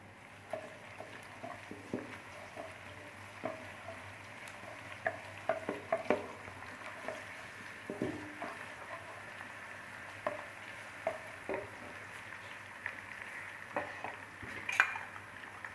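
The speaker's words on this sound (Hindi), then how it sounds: "तो अब हम इसमें डालेंगे 2 अदद कड़ी पत्ता, 4 अदद लौंग" Quiet, steady sizzling of curry leaves and cloves frying in hot oil with occasional stirring clicks and utensil scrapes, close by and without voices.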